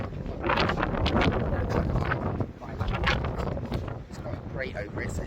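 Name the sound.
wind blowing into the microphone outdoors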